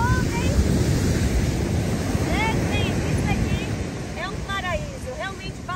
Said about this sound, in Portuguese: Essa daqui é a belíssima praia de Cepílio